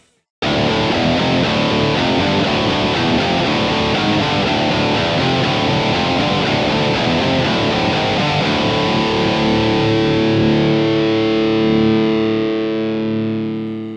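A heavily distorted electric guitar in drop D tuning strikes a power chord and lets it ring loudly and alone for many seconds, the dense crunchy tone slowly thinning as it decays.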